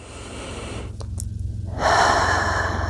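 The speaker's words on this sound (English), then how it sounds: "Taking some deep breaths here, really filling the belly." Deep belly breaths during a yoga session: a slow inhale followed by a fuller, louder exhale, close to the microphone with no talking.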